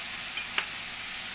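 Turmeric and spices frying in a pan for dhaba-style garlic fenugreek, a steady close hissing sizzle with a brief scrape of stirring partway through, no talk.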